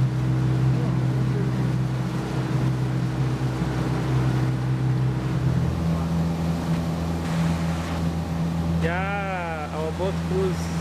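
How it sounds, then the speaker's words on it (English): A boat engine drones steadily under the scene in Uganda, with water and wind noise around it and people talking over the hum. "Boat cruise."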